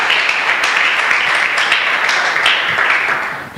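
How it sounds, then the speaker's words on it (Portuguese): A church congregation gives a round of applause to the Lord, a loud, even burst of many hands clapping close by, steady throughout and ending in a sharp final knock. "Dê uma linda salva de palmas ao Senhor"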